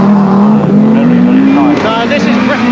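A rally car on the 1981 RAC Rally in Britain, its engine note climbing steadily and held loud and close, with someone talking over it.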